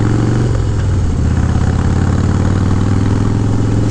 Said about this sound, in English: Just a quick ride with the quiet baffles in.